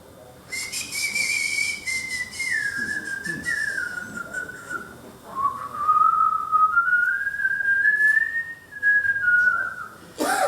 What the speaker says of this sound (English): sometimes he whistles.